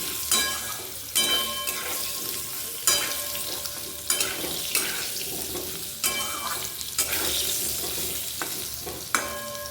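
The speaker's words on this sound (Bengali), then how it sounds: "এবার কুমড়োটা একটু ভাজি ভাজি করি" Thick-cut pumpkin pieces fry in oil in a pan, a steady sizzle broken by recurring sharp scraping and stirring strokes every second or two.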